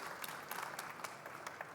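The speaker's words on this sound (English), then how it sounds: "One applause for him," Short burst of audience applause for a speaker at the Formnext trade fair, quiet and somewhat distant, with individual claps standing out in an uneven rhythm.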